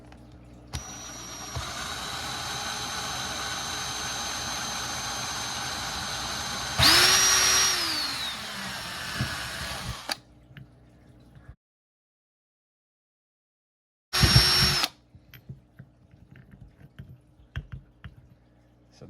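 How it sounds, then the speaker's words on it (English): A small drill bit bores a pilot hole into a block of wood, the motor whining steadily for several seconds with a brief pitch rise near the end, then stopping, followed by one short second burst after a pause. "I'm going to start off with a small drill bit to drill a pilot"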